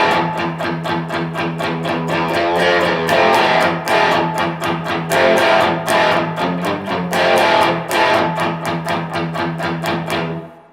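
Electric guitar on the bridge pickup with volume all the way up, played loud and distorted in sustained strummed chords with rhythmic repeated attacks, ringing alone for about ten seconds before cutting off.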